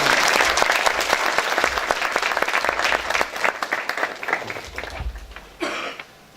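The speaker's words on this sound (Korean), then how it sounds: "큰 박수." A lecture hall audience at a veterans' association peace and security forum in Yeosu gives loud, sustained applause welcoming a Sogang University political science professor, dense clapping that gradually thins and fades toward the end.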